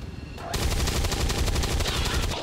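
Rapid gunfire from the video game XCOM 2 starts abruptly after a brief quiet moment. It continues as a dense, loud burst of repeated shots for about two seconds, with no talking.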